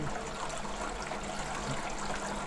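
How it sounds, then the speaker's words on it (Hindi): Water trickles and splashes softly in a garden fountain, a faint steady patter with no voices. "इनके अंदर पानी गिरता है, एक बूंद भी बाहर नहीं गिरता"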